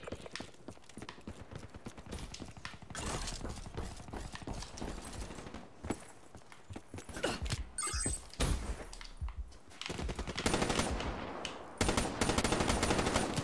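Call of Duty: Black Ops 3 gunfire on Xbox One during a hardcore Kill Confirmed team match: rapid automatic bursts and single cracks repeat across the stretch, fairly quiet overall, with clustered volleys growing denser toward the end.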